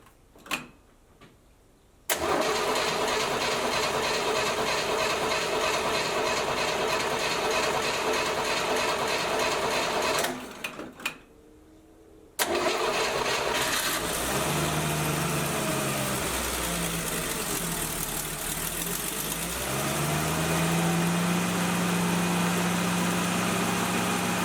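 A 1968 Chevrolet Camaro with a newly installed EFI fuel tank cranks briefly, then starts and settles into a steady idle. A second start follows after a short pause, and the engine runs on loud and close.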